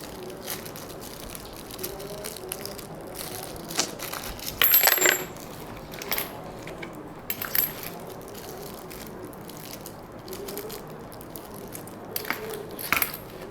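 Coins are handled and sorted by hand, including common Indian coins, giving scattered light clinks and metallic rattles with one brief louder jingle, set against a steady low background hum.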